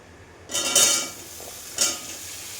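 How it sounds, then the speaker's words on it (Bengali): Two short bursts of hissing sizzle as vegetables hit hot oil in a pan, the second softer, over a low background hiss. "তো এখন এক এক করে এই যে সব সবজিগুলো আমি ভেজে নেব।"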